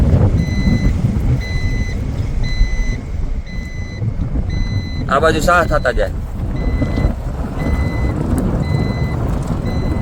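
A GPS-equipped tractor engine rumbles steadily nearby in a field during fertilizer loading, with a repeating electronic beep, and a person speaks briefly midway.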